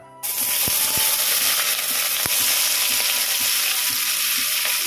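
Sliced onions fry in hot oil for a kothu porotta, a loud steady sizzle that starts suddenly and fills the clip, with sharp clicks and taps from a utensil against the pan.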